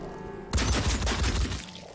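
Gunfire in the video game Phoenix Point, a sudden dense burst of rapid shots that lasts about a second before trailing off.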